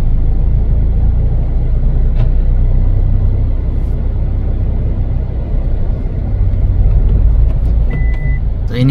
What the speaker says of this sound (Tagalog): Yun yung truck na kakarga ng bato.